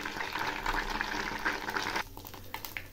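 Egg snacks frying in hot oil until crispy, giving a soft, continuous bubbling sizzle close by that thins out after about two seconds.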